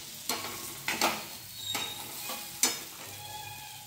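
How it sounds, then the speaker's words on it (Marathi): Chopped ridge gourd with coriander and garlic paste sautéing in a pan, a soft sizzle broken by several sharp scraping stirs of a spatula at irregular intervals, close and fairly quiet. "हे छान परतून घेणार आहे"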